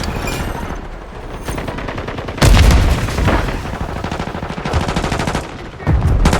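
Gunfire from Call of Duty MW3 gameplay: loud, dense rapid-fire crackle that runs almost nonstop, with a heavier booming burst partway through and further bursts near the end.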